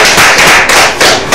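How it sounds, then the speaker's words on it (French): Loud, close clapping in a TV studio, several sharp claps in quick uneven bursts over a brief moment. "On l'applaudit maintenant."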